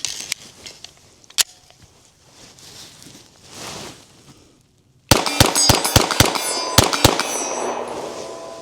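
Rapid string of Glock 49 pistol shots at an outdoor shooting range, a single early report then a burst of about eight sharp, loud cracks with ringing tails, following quieter range ambience.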